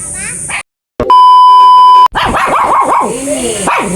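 Bini the dog barks several times in quick, sharp bursts at close range, with a brief electronic beep tone just before and a person's voice nearby.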